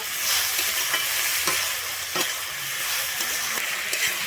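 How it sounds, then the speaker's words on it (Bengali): Fried flat beans are stirred into khesari greens in a pan, giving a dense close sizzle punctuated by several scraping utensil strokes. "আমি সিমটা দিয়ে কিন্তু শাকের সঙ্গে খুব ভালোভাবে মিশিয়ে নেব"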